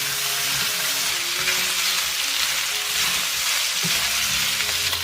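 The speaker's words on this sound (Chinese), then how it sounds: "然后把牛腩倒进来翻炒。 先把牛腩的水分炒干。" Beef brisket stir-fried in hot oil with ginger slices, a loud continuous sizzle and crackle of frying close up, with faint scraping of a stirring utensil and no voices.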